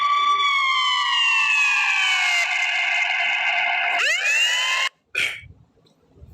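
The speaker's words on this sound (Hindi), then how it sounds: "एम्बुलेंस की आवाज है।" A loud wailing siren sweeps steadily for about five seconds, then cuts off abruptly, followed by a brief burst and quieter rumble.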